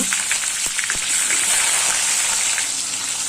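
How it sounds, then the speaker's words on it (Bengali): Young jackfruit pieces fry in mustard oil in a wok, giving a steady, dense sizzle with a few faint clinks, close and continuous with no one talking. "কড়াইতে দেব সর্ষের তেল তেলে এঁচোড়টাকে হালকা ভেজে নেব"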